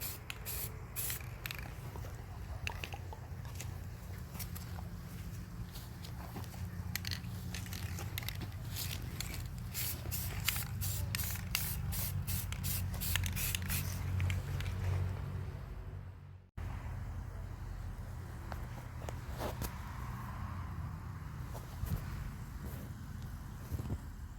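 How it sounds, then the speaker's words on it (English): Steady hiss of spray paint from an aerosol can onto pumpkins, continuous with brief pauses and rattling bursts, close up and without talk. "I have finished spraying the pumpkins"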